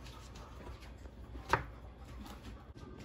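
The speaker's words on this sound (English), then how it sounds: "Next, you cut the lemon in half." A knife slices a lemon in half in a home kitchen while making lemon cheesecake: one faint, sharp cut near the middle, set against quiet room tone and soft small clicks.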